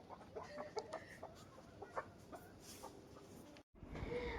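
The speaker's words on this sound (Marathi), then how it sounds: "आणि इकडे बघा कोंबड्यांना खायला टाकलंय" Chickens peck at scattered feed on a farm, giving off soft, irregular clucks and short calls close by over a quiet outdoor background.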